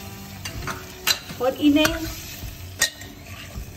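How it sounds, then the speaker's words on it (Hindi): Mixed vegetables with masala for pav bhaji being stirred and fried over fairly high heat in a pan, soft sizzling with spoon scrapes and clinks, a brief voice at one point. "थोड़ी तेज आंच पर भूनेंगे ताकि मसाला सभी सब्जियों को कोट कर ले।"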